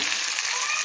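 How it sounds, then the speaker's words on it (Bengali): A fish head fries in hot oil, giving a brief, steady, close sizzling hiss with no pauses. "মাছের মাথাটা এই ভেজে নিচ্ছি।"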